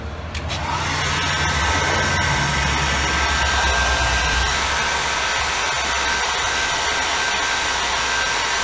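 A heat gun blows with a loud, steady whooshing roar while heating a dented body panel on a Hyundai Getz for paintless dent repair. It starts up at the outset and holds without a break, with no talking.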